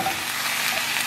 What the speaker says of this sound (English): add our pound of ground beef to a pan and allow it to brown